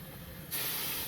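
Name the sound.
steam locomotive steam brake hissing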